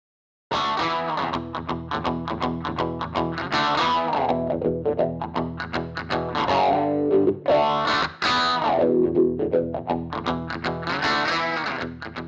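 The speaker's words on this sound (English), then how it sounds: "Select a wah and try it with the basic rock sound you just made." A distorted electric guitar through a BOSS GX-1 plays rock riffs while a wah pedal sweeps the tone up and down. It is loud and continuous, with no talking.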